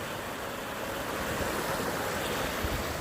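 Swift monsoon-flooded river water in Konkan rushes and churns in a steady, full wash of noise, close and continuous with no voices.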